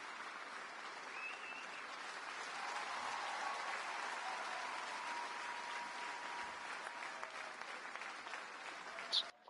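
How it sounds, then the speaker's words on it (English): A video game football stadium crowd's broad roar of cheering and applause, steady and fairly distant, swelling slightly midway and holding throughout. "Crowd sounds happy."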